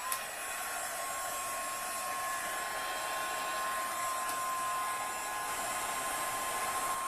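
A handheld heat tool for embossing powder runs steadily, a continuous airy blower roar with a faint high whine, close and unbroken throughout.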